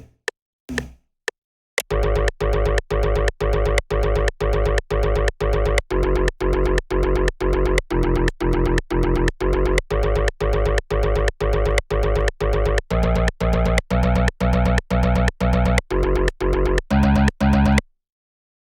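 A synthwave outrun bassline synth built in Harmor with unison set to 9 pulses in a steady run of punchy, evenly spaced bright notes, a few quick blips leading in and a brief change in pitch near the end.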